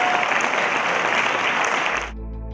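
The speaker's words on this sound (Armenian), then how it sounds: "ձեր ծափարություններից հետո" An indoor audience gives close, dense applause for an honored guest at a public event, then the clapping cuts off abruptly and a low steady tone takes over.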